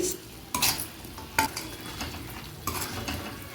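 A chicken gongura pickle mixture with salt is stirred in a pan over low heat, with a few distinct scraping, clinking strokes of the spoon against a soft background hiss.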